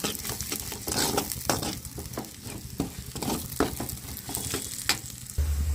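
A spoon scrapes and stirs masala brinjal curry in a pan while it fries, steady close sizzling broken by repeated clattering strokes, no voices.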